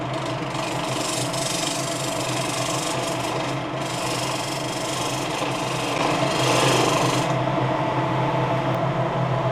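A carbide detail gouge smoothing the inside bottom of a wooden bowl turned on a lathe, a constant raspy scraping over the steady motor drone, getting louder and harsher toward the end, no voices.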